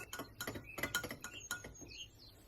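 Spoon stirring dry turmeric, ground black pepper, paprika and dried basil in a bowl, quiet close clinks and scrapes in a quick irregular series, with no talk.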